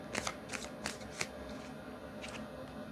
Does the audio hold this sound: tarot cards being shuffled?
yes